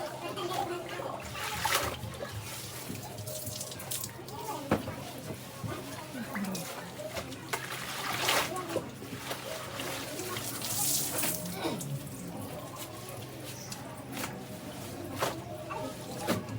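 A thick floor mat (dari) is washed with water and detergent, with continuous splashing, sloshing and trickling close by and a voice speaking over the water.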